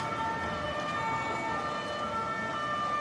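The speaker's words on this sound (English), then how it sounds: "they heard a siren in the background" An emergency siren wails steadily in the background of a Paris street, faint and distant beneath a constant wash of city noise.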